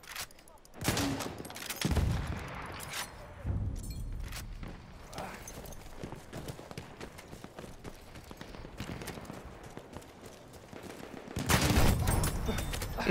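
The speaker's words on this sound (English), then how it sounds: "There's a machine gun." Bursts of gunfire crackle through a busy video game battle, with heavier volleys near the start and again at the end over a constant backdrop of combat noise.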